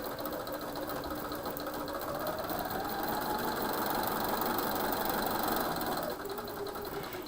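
Sewing machine stitching a fabric seam for quilt blocks: a continuous close mechanical whirr with a steady rapid pulse, running unbroken and briefly easing near the end.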